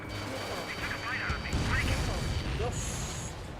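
Missile launch and explosions in Ace Combat 7 form a rumbling, crashing blast with sharp bursts and a whooshing tail, heard under radio-style voices and cockpit tones.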